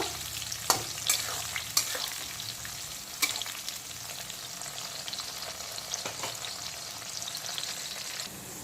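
Whole and broken cashews fry with raisins in a pan over low heat, giving a soft, continuous sizzle with a few sharper clicks and scrapes of stirring at close range.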